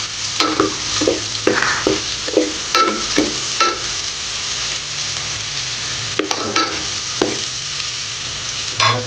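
Black pepper is sautéed in a sizzling pan for tinola egg soup with papaya and malunggay, with a steady fry hiss broken by sharp, repeated stirring scrapes and clinks close by.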